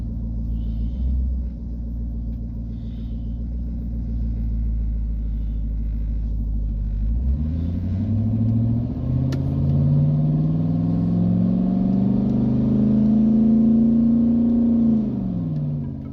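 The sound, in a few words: car engine with 4L60E transmission shifting at 3,000 RPM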